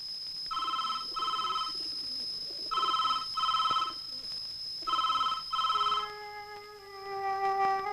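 A telephone rings in repeated double bursts, three pairs of shrill electronic trills at a steady rhythm, followed by a different tonal sound as it stops.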